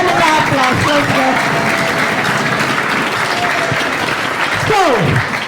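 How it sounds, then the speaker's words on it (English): A room full of boys claps in a loud, continuous round of applause while voices shout and call out over the clapping, with one rising vocal whoop near the end. "Round of applause, let's go."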